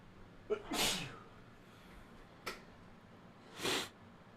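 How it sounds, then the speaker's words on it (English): A person sneezes indoors during a stressful fantasy football draft: a sharp sneeze, then a short snort and a second sneeze a few seconds later, close but fairly soft, with no talking. "I'm really about to sneeze again"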